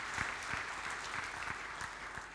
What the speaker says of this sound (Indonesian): Tepuk tangan bagi Allah kita